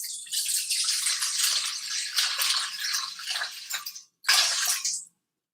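Water pours steadily into a mixing bowl for two loaves of whole grain bread dough, a close, broadband rushing stream lasting about four seconds, briefly cut off, then a short final splash before it stops.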